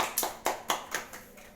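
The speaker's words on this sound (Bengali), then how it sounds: "তালিয়া" Hands clapping in a slow, even rhythm, six distinct sharp claps close to the microphone with no talking.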